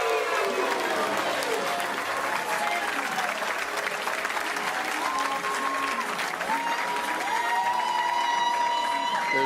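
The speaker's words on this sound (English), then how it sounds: "There's the Ogle cheering section." A crowd at a professional bowling tournament final claps and cheers steadily, dense applause filling the hall throughout, with an announcer talking over it.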